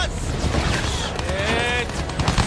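An anti-aircraft gun fires in a Battlefield 1 battle scene, its rapid crackling bursts mixed into dense, noisy combat sound.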